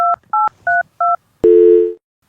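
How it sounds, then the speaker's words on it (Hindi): Four short two-tone keypad beeps in an even rhythm, then a longer steady tone, from a phone dialing a number to call the police; loud and close, with no talk. "अभी मिलाऊं पुलिस लो फोन।"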